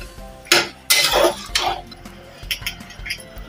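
A spoon scrapes and clinks against a cooking pot as potatoes and peas are stirred together in spiced masala, giving a few sharp metallic knocks and then lighter, scattered taps.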